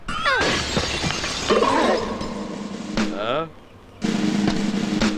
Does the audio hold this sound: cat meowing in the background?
no